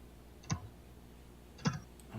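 Two sparse, quiet clicks from a computer keyboard as someone types in chat, separated by a pause, with a faint third tap at the end over a low background.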